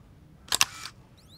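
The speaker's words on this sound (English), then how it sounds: "Okay, so the flash works" Canon EOS 3000 film camera firing its flash: a close, sharp double click of the shutter and flash in quick succession, followed by a short fading whir and a faint rising electronic whine of the flash recharging, in an otherwise quiet room.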